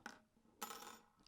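A hot-swap mechanical keyboard switch, on a 60% MARVODIY Undefined 61 board, gives two short faint clicky pops as a switch puller pries it loose, heard up close and alone.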